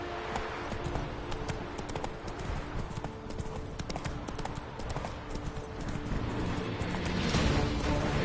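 Roach, Geralt's horse in The Witcher 3, gallops with steady, dense hoof clip-clop close by, a rolling rhythm that stays loud throughout and swells a little louder toward the end, with no talking.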